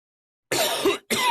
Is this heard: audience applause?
no